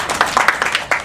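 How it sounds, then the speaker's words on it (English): Audience applause in a conference hall for a nutrition talk, a brief burst of scattered, fairly close hand claps lasting about a second. "Everybody give them a round of applause."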